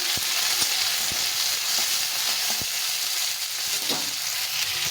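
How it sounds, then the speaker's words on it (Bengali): Chopped tomato frying with onions in a pan for egg biryani, a steady close sizzle with scattered crackles and stirring taps, no voices. "টমেটোটা একটু ভেজে নেব।"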